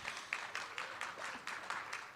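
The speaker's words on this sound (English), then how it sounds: "Yes, you can clap." A debate audience in Las Vegas claps together at a mayoral debate, faint and somewhat distant, with rhythmic bursts of many hands merging into a soft, steady patter.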